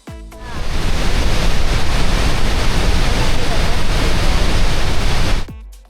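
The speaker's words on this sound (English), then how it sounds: "it is a whole nother experience to see the water crashing down practically right on top of you" Horseshoe Falls at Niagara thunders down close by, a loud, dense roaring wash of crashing water that surges in after a brief start and holds steady before cutting off, like heavy surf or wind-blown spray.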